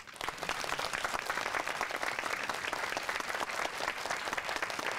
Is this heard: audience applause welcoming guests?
yes